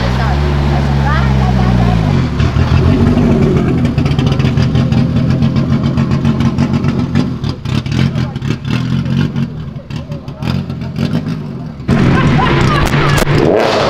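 A turbocharged Volkswagen Golf R engine revs hard up close, a deep rising growl settling into a loud throbbing run, with excited voices talking over it.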